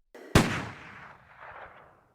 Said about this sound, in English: Once inside, the trio hear a gunshot.